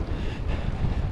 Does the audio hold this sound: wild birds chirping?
no